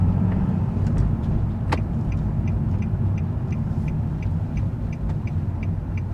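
A car pulls in and turns around, heard from inside as a constant low engine and road rumble with a faint click partway through and no talking.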